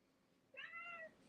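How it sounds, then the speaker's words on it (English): A fat cat gives one short, clear meow, close and fairly quiet against a still background. "look at this fat cat"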